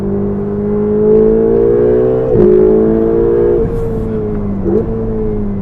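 Ferrari 488 GTB under hard acceleration and braking, a loud close engine whose pitch climbs steadily then drops sharply twice as the car slows, with no talking.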